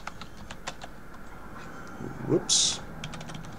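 Brief typing on a new computer keyboard, with scattered soft key clicks and a couple of sharper taps near the end, while a person briefly speaks.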